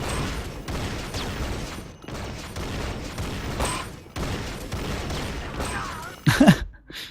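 An Enforcer pistol fires in rapid, evenly spaced shots during a one-on-one video game duel, loud and continuous with brief gaps, ending in a sharper burst.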